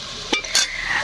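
Red amaranth greens hit a hot wok, giving a close, hissing sizzle punctuated by two sharp metallic scrapes and clanks from a stirring utensil.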